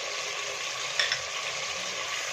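Crushed ginger, garlic, onion and sliced tomato fry for a beetroot vegetable biryani, a soft continuous sizzle nearby with one brief metallic clink of a spoon against the pan.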